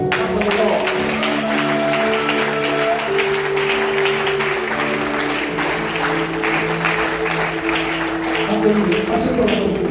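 Members of a church congregation at a men's convention applaud the Lord, continuous crowd clapping and cheering over held keyboard chords for the full stretch, fairly loud with voices mixed into the noise.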